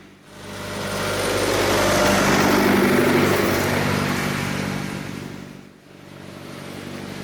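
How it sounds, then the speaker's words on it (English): A tractor engine swells as it approaches and rumbles past on a rural hillside road, its loud steady drone peaking midway and then fading away. "There's a tractor coming"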